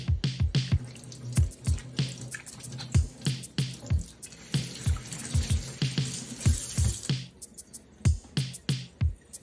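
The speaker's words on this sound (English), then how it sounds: "Start by washing our hands" Water runs from a kitchen tap during handwashing before food prep, heard as a close, uneven series of splashes and drips, loud and irregular, with no voices.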